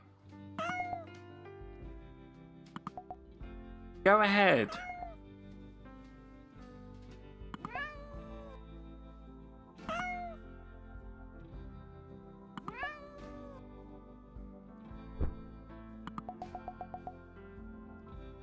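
A kitten meows repeatedly, a string of separate rising-and-falling cries spaced a few seconds apart, some close and loud, with a quiet voice briefly heard once.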